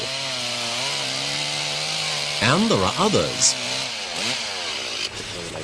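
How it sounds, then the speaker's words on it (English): A chainsaw cutting wood in the Sulawesi jungle, its engine droning steadily and then revving and bogging in rising and falling sweeps as it bites in, loud and close, with a voice speaking briefly over it. "The chainsaw will prove to be an indispensable tool."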